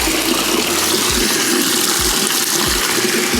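Tap water gushes steadily into a bucket, filled to about four gallons for a rinseless car wash in a garage, with a grit guard inside; the loud, continuous pour runs alone, with faint rhythmic low thumps beneath.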